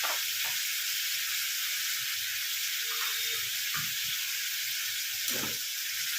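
A fish head fries in hot oil with turmeric and Kashmiri red chilli, giving a steady bright sizzle with a few soft stirring knocks and no voices.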